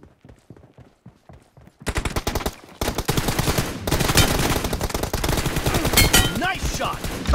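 Gunfire in PUBG Mobile team deathmatch: a few sparse single shots at first, then dense, loud automatic bursts rattling on continuously as the fight intensifies.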